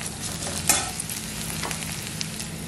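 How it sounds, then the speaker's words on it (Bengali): Onions frying in hot oil beside a coconut milk fish curry, with a continuous close sizzle and a sharp crackle or stir near the start. "তেলের ওপর পেঁয়াজ"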